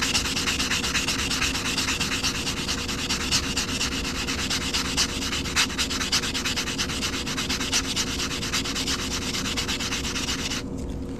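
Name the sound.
filing a coin ring's cut edge on a nail file block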